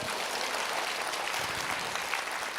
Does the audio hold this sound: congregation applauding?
yes